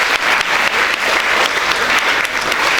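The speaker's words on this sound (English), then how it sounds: "Sir surely deserves a huge round of applause." Loud, dense applause from an audience, a steady wash of clapping hands throughout.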